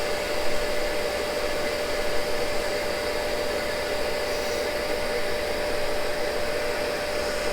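A Cincinnati tool and cutter grinder works a Morse taper in a steady, loud, continuous broadband whir with a sustained tonal whine, alone and unbroken throughout.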